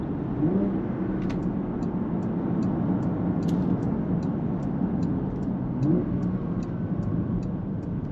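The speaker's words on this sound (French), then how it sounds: "On entend également le turbo qui charge." A Porsche Panamera Sport Turismo 4S engine with sport exhaust drones loudly under acceleration, with a faint high turbo whine rising over the exhaust rumble and a couple of gear-change surges.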